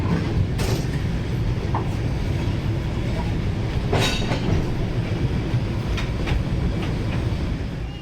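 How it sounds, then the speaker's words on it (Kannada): A Darjeeling Himalayan toy train on a hill railway gives a steady, close rumble with a faint clickety-clack of wheels on rail joints and a few sharp metallic squeaks, continuing unbroken throughout. "ನಮ್ಮ ಟ್ರೈನ್ ಬಂದು ನಿಂತಿದೆ."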